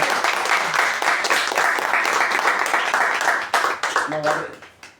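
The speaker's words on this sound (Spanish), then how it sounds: "Yo creo que sí podemos dar un fuerte aplauso" Sustained audience applause fills a book launch event in Paraguay, dense and steady for several seconds before thinning out, with a voice briefly rising near the end.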